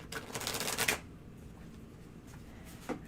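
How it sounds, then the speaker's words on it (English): Tarot cards are shuffled by hand in a quick, close burst of riffling and flicking for about a second, then a short pause and one brief shuffle near the end. No one speaks. "Maybe you want to give me room to shuffle."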